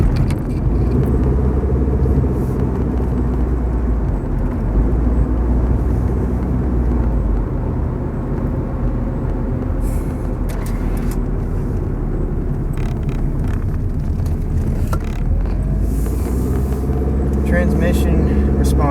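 A 1998 Ford Escort SE on the move, a steady low engine and road rumble inside the cabin that runs throughout while a person talks over it.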